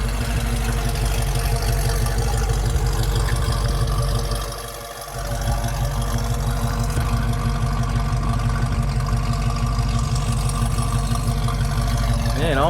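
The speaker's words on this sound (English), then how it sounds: "it's a stock exhaust system, but it's a little throaty" A 1974 Ford Bronco Sport with a 302 V8, automatic transmission and stock exhaust idles with a steady, slightly throaty rumble that holds even and continuous, dipping briefly about a third of the way through.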